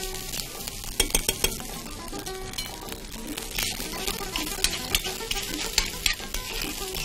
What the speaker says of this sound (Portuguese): Aí, o ovo já coalha, né? E aí sim, eu já posso misturar ele com o arroz